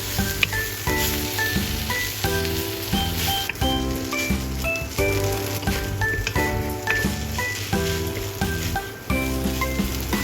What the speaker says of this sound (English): Add the rice and break up any clumps with a spatula. Stir-fry until evenly combined.